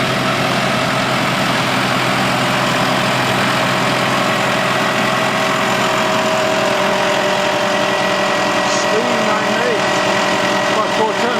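A tractor runs a feed mixer loaded with about four tons of cattle feed, giving a steady, loud low engine drone with mechanical churning throughout, while someone talks over it.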